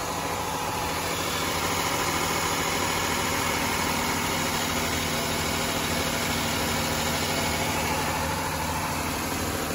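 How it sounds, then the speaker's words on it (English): A Lexus IS250 engine idles steadily with its headlights switched on as an electrical load, giving a constant, even hum and rumble with no talk throughout. "So we're gonna listen out for any changes in the engine."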